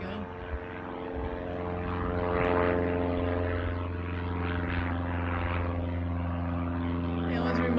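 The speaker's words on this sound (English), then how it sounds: "those single engine planes" A single-engine propeller airplane drones steadily overhead, its engine hum loud and sustained with a slight swell in the middle of the pass, heard outdoors in a spring garden.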